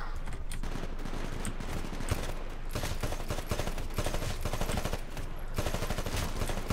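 Rapid automatic gunfire in the Titanfall multiplayer beta, dense loud bursts of shots rattling almost continuously with short gaps.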